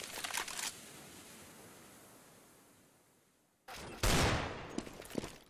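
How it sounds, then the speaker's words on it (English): Counter-Strike match gunfire: a quick burst of shots at the start, a fading tail, then louder rapid rifle fire and a final sharp shot near the end, with no voices. "And Lincoln with a headshot onto Sagaton in main area."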